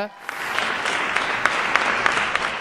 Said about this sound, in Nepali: ताली बजाउनु मिल्छ